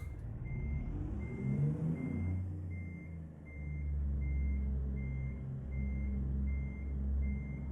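Truck reversing beeps in American Truck Simulator, a steady evenly spaced series of high electronic beeps over a loud low diesel engine rumble, with no talking.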